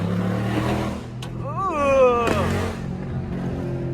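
A tuned Dodge Hellcat SRT engine drones low and steady on the highway with a rising whine partway through, under background chatter.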